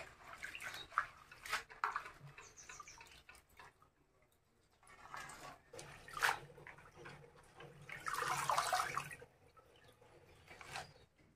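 Mustard greens are washed by hand under running water, with splashing and dripping in uneven bursts, pausing briefly before louder rinsing swells near the end, close and moderately quiet.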